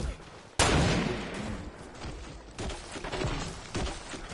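Gunfire in the Fortnite video game, a loud sudden burst followed by several more shots and rattling volleys in quick succession, close and sharp.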